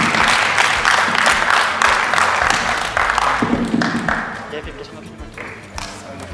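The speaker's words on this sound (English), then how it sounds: "Let's clap for him nicely." An audience applauds an award recipient, presented with a Best Facilitator of the Year award, in bursts of clapping with a voice speaking over it, loud at first and then fading.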